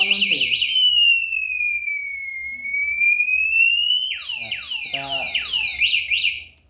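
Loud electronic anti-theft alarm of a Pacific Ventura R5 bicycle lock, a piercing siren that wails in rapid warbling chirps, holds a long sweeping tone, then returns to fast chirping bursts before cutting off.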